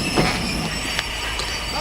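A train for London Victoria at a station platform, with a steady rolling rumble, metallic wheel squeals and a few sharp clanks.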